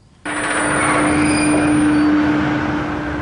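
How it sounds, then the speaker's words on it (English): A roller coaster train is launched by a high-speed winch catapult with a pusher vehicle: a sudden loud onset of sustained mechanical whirring and rushing roar with a steady hum, continuing strongly to the end. "Train comes up here, the pusher vehicle attaches to the train and launch the train into the mountain."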